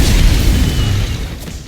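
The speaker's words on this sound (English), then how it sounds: "its alternate fire creates a large explosion that's really great for getting out of tight situations" A Thrustodyne M23 jet gun in Black Ops 6 Zombies lets off its alternate-fire explosion, a loud, close, booming blast with a broad roar that fades over a second or so.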